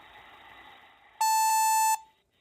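A single sustained electronic beep tone, loud and steady for under a second, marks the start of a voicemail recording after faint background sound, then cuts off to near silence.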